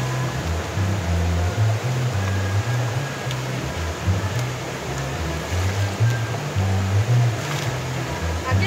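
Waves wash in at a shore where potatoes are being washed, a loud, steady broadband rush of surf close by with rolling low swells, continuing without pause.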